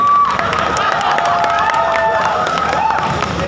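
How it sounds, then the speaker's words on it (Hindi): A live audience at an app launch promotion event cheers and claps loudly in a dense, continuous wash of crowd noise, with whoops and shouts rising over it throughout. "एक बार जोरदार तालियां हो जाए हमारे सुपरस्टार सस्ते गोविंदा के लिए"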